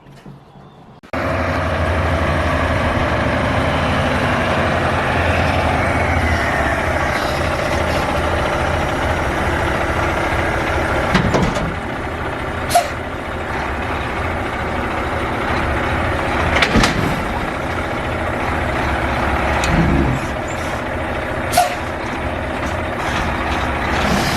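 A U-Pack ABF Freight truck's heavy diesel engine idles steadily and loudly up close for a long stretch, broken by a few sharp hissing bursts from the air brakes, with no talk.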